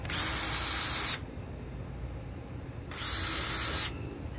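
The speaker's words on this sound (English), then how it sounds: "Then go ahead and pre-drill." Two short bursts of a high-pitched power drill whirring as it pre-drills plastic on a Toyota Tacoma bumper part, separated by a brief pause with quiet background noise.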